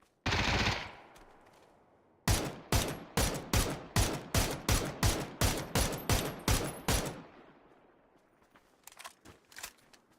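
Loud rapid bursts of automatic gunfire from the video game PUBG, about a dozen evenly spaced shots in a steady rhythm after an earlier blast, then a fading tail with faint distant clatter.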